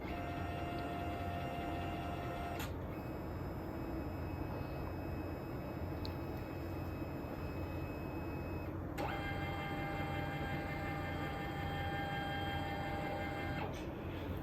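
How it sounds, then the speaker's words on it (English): A Brother MFC-J1010DW inkjet printer scans with a steady close mechanical whir carrying sustained high tones. The tones shift pitch abruptly twice as the scan head changes phase. "You can hear the sound is a little different because it's now scanning versus printing."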